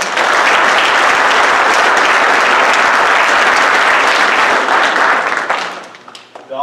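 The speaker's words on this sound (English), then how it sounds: "Let's give these individuals a round of applause." An audience at an FFA banquet applauds in a dense, loud wash of clapping that holds steady for about five seconds, then thins and fades out.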